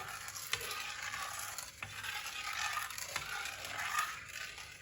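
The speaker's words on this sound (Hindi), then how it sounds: "अब इसको अच्छी तरह मिक्स कर देंगे।" Mint lemon sharbat mixture being stirred with a spoon, steady swirling and clinking against the container, close and fairly quiet with a few sharper taps and no talking.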